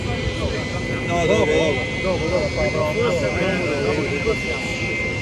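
Jet aircraft of the Italian air force display team at an air force base, a steady loud engine roar with people talking over it nearby.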